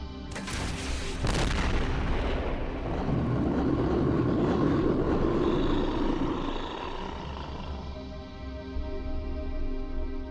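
An artillery barrage in the X-Com Files video game: sharp cracks of fire open the passage, then heavy booms roll into a long rumbling wash that slowly fades, with no voices.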